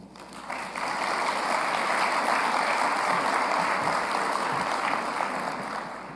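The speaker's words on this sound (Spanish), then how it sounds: "Recibámoslo con un aplauso" Audience at the Foro AGIS 2026 insurance-market panel in Guatemala applauds to welcome a panelist, a sustained, even roar of many hands clapping that builds quickly and tapers slightly at the end.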